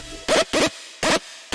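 A screamy Serum synth bass patch called crazy fist fires four short, harsh bursts in an uneven rhythm, loud and gritty with a warbling buzz, separated by near-silence and no voices.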